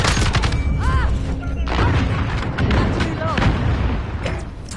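Grenade blasts and gunfire from a hardpoint match in an online shooter played on PS4, heavy continuous booms and crackle rolling through the clip with voices calling out over the battle noise.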